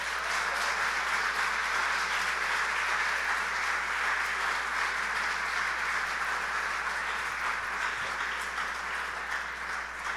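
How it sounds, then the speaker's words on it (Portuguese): A church congregation applauds Jesus during a sermon, a broad, even wash of clapping that holds steady throughout with no voice over it. "Você pode aplaudir a Jesus?"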